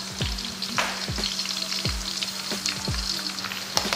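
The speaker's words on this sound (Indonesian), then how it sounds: "Goreng bawang putih ini jangan ditinggal." Garlic sizzles steadily in hot oil while being fried as the base for fried peanuts, a continuous crackling hiss with repeated scraping strokes of stirring at a regular pace, close and alone without voices.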